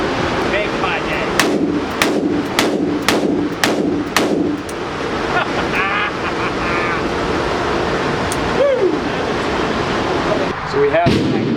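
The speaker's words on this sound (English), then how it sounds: "This is my first time shooting the F1 firearms 300 Blackout with my right-on optic" Outdoors on a windy range, an F1 Firearms 300 Blackout rifle fitted with an optic fires about seven sharp, loud shots in a fairly steady rhythm, followed by gusty wind noise and handling sounds.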